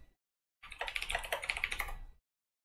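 Fast keystrokes on a computer keyboard make a short, close burst of clicky typing that lasts about a second and a half between stretches of silence.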